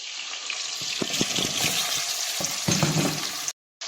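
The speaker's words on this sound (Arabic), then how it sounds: "اضيف عليه البوتيتا اللي قطعتها على مود ينحمسن سوا" Potatoes and onion sizzle steadily in a frying pan, a continuous bright hiss with scattered crackles and a few stirring clatters, close and fairly loud throughout before cutting off briefly near the end.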